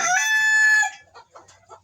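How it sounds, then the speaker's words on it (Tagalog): Ducks calling inside a house where they have come in from the cold: one long, loud, close harmonic call, then a few softer, short clucking calls. "Nagiginaw ang mga pato. Napasok dito sa bahay."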